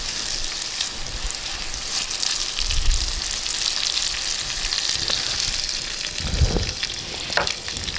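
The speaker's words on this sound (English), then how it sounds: "I'm going to add in my bacon. We're going to keep that off to one side of the pan." Bacon fries on the hot side of a pan for potato soup, giving a constant close, bright sizzle with a couple of soft low bumps from the pan.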